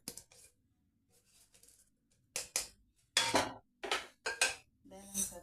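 Washed raw white rice tips into a hot kadai with a series of gritty, rattling bursts and pours, separated by quieter pauses, close and fairly loud, with no talk over it.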